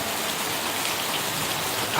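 Heavy rain falls near a water-filled pond, a loud, unbroken roar of drops close by with no pauses and no talking.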